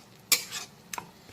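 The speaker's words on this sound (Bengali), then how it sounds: "এখন টক দইটা খুব ভালো করে মিক্সড করে নিতে হবে।" A spoon stirs sour yogurt in a metal cooking pan, two short clinking scrapes with a quiet gap between them.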